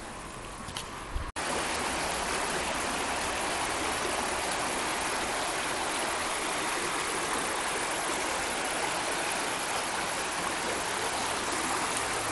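Creek flowing beside a campsite at Roan Mountain, Tennessee, a steady close rushing of water that continues unbroken after a brief quieter moment at the start, with no voices.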